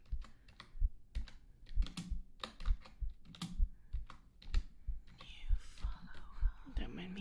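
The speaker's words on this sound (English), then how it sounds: "I'm just typing one-handed like a boomer" Computer keyboard typed on one-handed, uneven clusters of close soft key clicks with a low rhythmic thump underneath, quiet whispery voice sounds mixed in toward the end.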